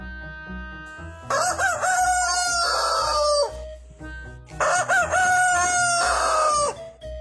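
Two long rooster crows ring out one after another, loud and close, with hens clucking steadily underneath.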